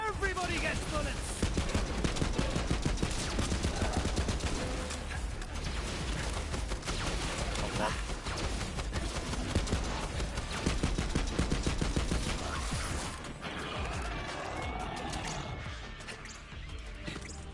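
Rapid video-game gunfire from Borderlands 3, dense bursts of shots running almost continuously under music and game effects, loud and close, fading somewhat near the end.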